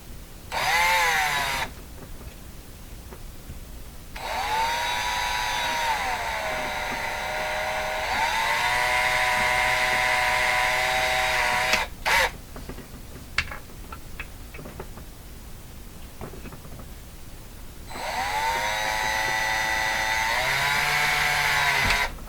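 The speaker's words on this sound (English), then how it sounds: "So I'm going to guess what I'm drilling through here is zinc." A power drill whines in long, loud bursts with short pauses between, its pitch rising and falling as it bites into the zinc of a bias battery.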